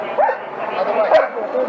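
Police dog Stone barks and whimpers in short, loud yelping bursts close by while subduing a suspect at a house, with a steady, busy background.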